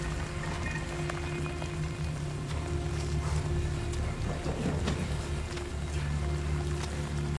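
Rain falling in a TV series scene, a steady dense patter on surfaces with a low constant hum underneath, even and moderately faint throughout.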